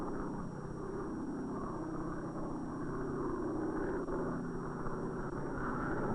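Weather plane engine drone in flight over the Pacific on the way to Bikini, a steady low rumble with a faint constant high whine, even in level and without talk.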